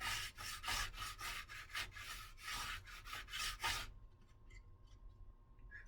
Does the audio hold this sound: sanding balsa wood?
yes